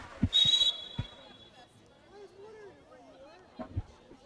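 A referee's whistle gives one short, sharp blast at a women's college soccer match between Old Dominion and JMU, heard over faint crowd murmur while a commentator talks.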